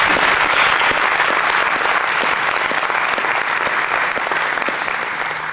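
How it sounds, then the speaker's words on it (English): An audience at a cowboy poetry event giving a big round of applause, dense sustained clapping that fills the room steadily from start to finish. "will y'all give Miss Hannah another big round of applause for it?"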